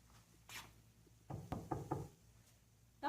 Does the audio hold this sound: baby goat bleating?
no